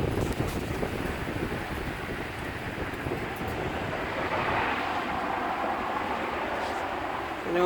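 Wind blowing through a dogwood tree outdoors during a fall windstorm, heard as a constant rushing roar with heavy gusty buffeting against the microphone throughout, no voices.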